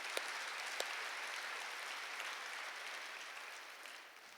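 Church congregation applauding during a sermon, a fairly faint, sustained patter of clapping from many hands that gradually tapers off.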